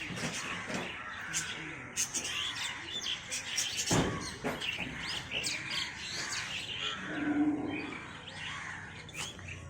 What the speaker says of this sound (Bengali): পাখিগুলো ভালো লাগছে